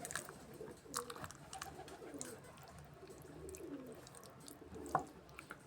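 Pigeons coo softly in the background, with occasional chirps and light clicking or dripping sounds in a quiet outdoor space on a rooftop, with cats nearby.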